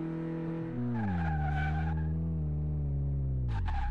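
Car tires skidding and squealing during a test drive in Car Mechanic Simulator 2018, a loud sustained screech that bends in pitch over engine drone, ending with a couple of short scrapes.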